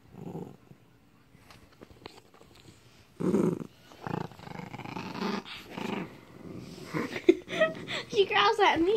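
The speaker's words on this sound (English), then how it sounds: "She growls at me, but if you lift her high in the air, she won't growl at you." A small female dog growls low and intermittently, close to the microphone, with the rumbles growing busier toward the end while a person's voice is heard alongside.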